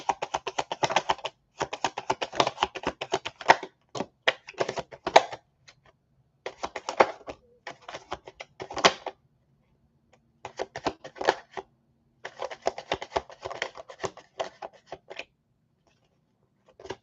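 Tarot cards are shuffled in quick, crisp riffling bursts of clicking and flapping, close up, separated by short pauses and repeated several times with no speech.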